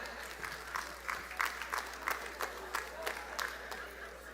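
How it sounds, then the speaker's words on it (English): A small scattering of hands clapping at a commencement ceremony, sparse and irregular, fairly quiet over a steady low hum in a large hall. "You can clap to that."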